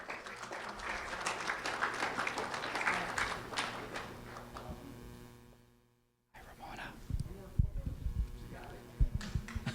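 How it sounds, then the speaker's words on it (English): Audience applause for Ramona Pedro, a fourth-grade student honored by the Lee County Sheriff's Office, fills the room at moderate level with scattered voices, breaks off into a brief silence, then gives way to closer knocks and movement. "a round of applause for Ramona Pedro"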